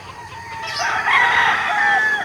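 Free-range egg-laying hens cluck and call loudly and close by, with a drawn-out crowing-like cry rising over a low background rumble.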